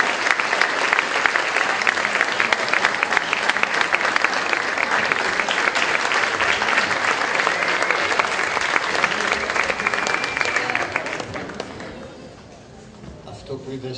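Children at a secondary school event on recycled materials give sustained, dense applause that fills the space for about eleven seconds before thinning and fading.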